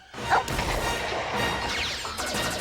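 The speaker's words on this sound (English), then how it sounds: "This is the dog, Lupus. He's a big leaper." A large in-game dog named Lupus in a Nintendo 64 title gives a sharp bark or yip early on, set against busy game music, whooshing effects and crashes that continue throughout.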